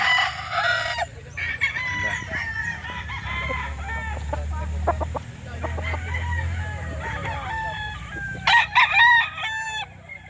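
Roosters crow repeatedly at a Saturday chicken market in Calauan, Laguna, with loud nearby cock-a-doodle-doo calls and clucking over a low background murmur, one crow rising sharply near the end.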